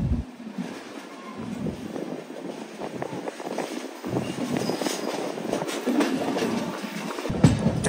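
The Jan Shatabdi Express rounds a curve near Tenali on its way into the station, giving a continuous rumble of wheels and carriages with heavy wind buffeting the microphone and no voices.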